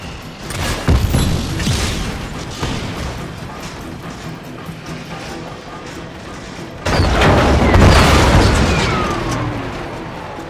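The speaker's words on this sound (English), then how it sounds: "rocket launcher." Rocket launcher blasts in Just Cause 3 boom loudly and close, with a first heavy explosion rolling into a rumbling, crackling tail and a second big blast hitting just before the end amid continuous gameplay noise.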